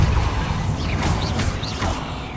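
The Depulso force-push spell in the wizarding video game Hogwarts Legacy, a burst of rattling, creaking magical effects with rising whooshing sweeps, dense and loud throughout.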